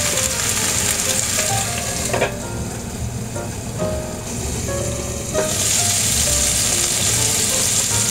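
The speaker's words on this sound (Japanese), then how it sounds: "熱したフライパンにオリーブオイルを入れ焼き目をつけていきます。" Leeks sear in olive oil in a hot frying pan, giving a steady, loud sizzle throughout with brief surges and crackles, no talking.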